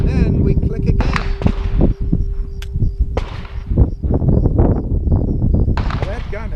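Dry-fire trigger clicks of a handgun on an empty chamber with the magazine removed, sharp close snaps scattered among handling noise and background voices.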